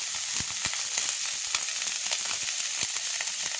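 Vegetables fry in a pan with salt and turmeric, giving a steady, close hiss of sizzling oil broken by small pops and light clicks of stirring, with no voices.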